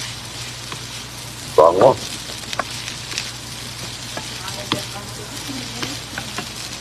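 Sinangag, garlic fried rice with onion and bell pepper, sizzles steadily in a pan with a soft frying crackle, while someone talks over it and a brief clatter sounds early on.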